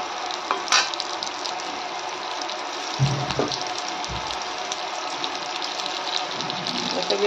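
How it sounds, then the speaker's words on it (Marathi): Stuffed ridge gourd frying in hot oil with cumin gives a steady close sizzle throughout, with a few clinks and stirring sounds and no talking. "दोडकी आपण टाकून थोडीशी आता तेलामध्ये आपल्याला फ्राय करायचे."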